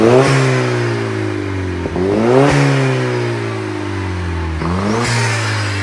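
A lightweight manual VUHL supercar with a turbocharged engine idles loudly and close by, then is revved in sharp bursts near two seconds and five seconds, each rising and falling back to a steady rumble.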